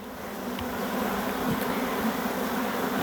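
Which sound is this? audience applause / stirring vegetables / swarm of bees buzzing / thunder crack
swarm of bees buzzing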